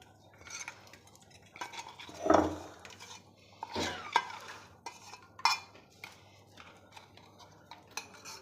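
Puffed rice chivda with curry leaves tossed in a dry pan, heard as uneven rustling and scraping strokes with a few louder clanks of a spoon against metal, close and sparse, with no talking.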